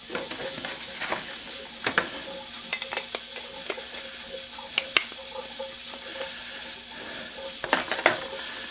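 A stiff Millers Falls No. 2 eggbeater hand drill being cranked, its gears turning with a soft, uneven clicking and ratcheting, close and fairly quiet with occasional sharper clicks.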